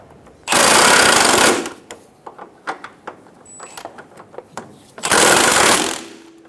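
A 14mm socket on a ratchet snugs down the middle subframe bracket bolts on a 2003-2007 Honda Accord: two long, loud bursts of rapid ratcheting clicks, separated by a stretch of lighter tapping and clinking.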